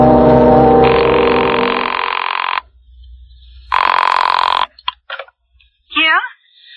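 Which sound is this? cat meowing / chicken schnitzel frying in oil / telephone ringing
telephone ringing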